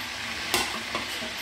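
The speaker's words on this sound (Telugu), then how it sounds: "తర్వాత ఎండుమిర్చి అండి. తర్వాత కరివేపాకు. బాగా కొంచెం ఫ్రై కావాలండి." Dried red chillies and curry leaves fry in hot oil for a pickle, giving a steady sizzle with one sharp crackling burst as they hit the pan and a smaller pop shortly after, close and alone.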